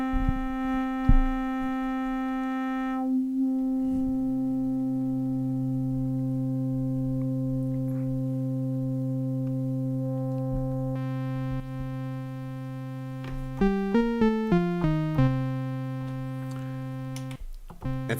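An Arturia MiniFreak synthesizer holds long, buzzing sustained tones, then plays a quick run of stepped notes, all washed in reverb, with no voices.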